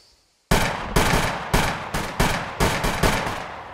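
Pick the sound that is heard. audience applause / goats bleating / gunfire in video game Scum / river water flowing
gunfire in video game Scum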